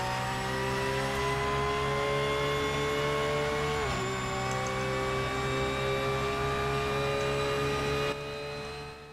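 Porsche 911 GT3 engine in Assetto Corsa droning steadily at high revs along the Road America straight, one brief lift and shift midway, then sustained loud engine whine to the end.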